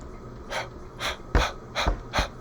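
A voice imitates a breathy H sound with five soft exhaled puffs, evenly spaced about half a second apart, close and fairly quiet.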